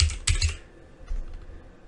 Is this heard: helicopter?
no